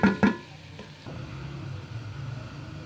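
Sindhi biryani ingredients frying in a pot, opening with two loud clanks of a spoon against metal, then a steady close sizzle with soft stirring scrapes.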